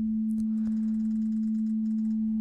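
A pure sine wave from the Operator synth in a studio, a single steady tone held at constant loudness for the whole stretch, with faint high ticks above it.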